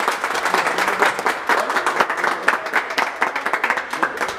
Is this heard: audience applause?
yes